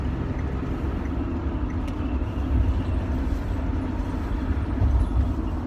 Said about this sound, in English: this is a driving video, so it might be a little bit noisy. Driving in a Chevy Express